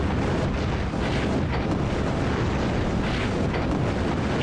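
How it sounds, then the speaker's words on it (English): Loud, continuous roaring and rumbling of explosions in the Project Nomads video game, with a few swelling bursts over a dense wall of noise and no talk. "the explosions do get a little loud in this game"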